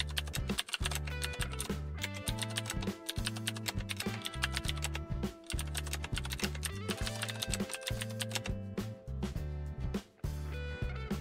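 Fingers type rapidly on a computer keyboard, making dense, continuous clicking over background music with a steady beat.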